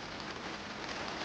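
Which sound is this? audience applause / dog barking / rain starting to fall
rain starting to fall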